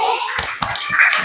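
Children do the Tepuk Bakso clapping game in an Indonesian classroom, giving a few sharp rhythmic hand claps up close with brief chanted voices among them.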